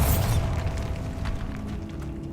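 A Bombarda blasting spell goes off in Hogwarts Legacy as a loud, close burst at the start, followed by a fading rumble and scattered debris crackle, with no voices.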